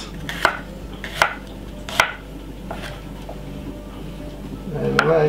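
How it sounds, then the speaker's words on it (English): Green pepper being chopped with a knife on a board for a vegan Jamaican ackee and green banana dish, giving three sharp, evenly spaced close chops and a softer fourth, then a quicker cluster of cuts, with no talk over them. "start by chopping the pepper."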